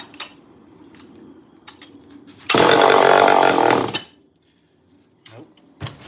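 A small two-stroke chainsaw being tuned after a carburetor adjustment revs loudly for about a second and a half, then cuts out into near silence with only faint background sounds after.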